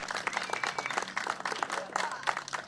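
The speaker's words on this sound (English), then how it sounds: "that deserves a big round of applause" A crowd applauds at an outdoor park event, dense steady clapping that stays loud and even for a few seconds with a little talk mixed in.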